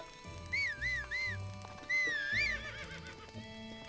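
A horse in the video game The Legend of Zelda: Breath of the Wild whinnies twice in clear, close calls over soft clip-clopping hooves and a faint game music background.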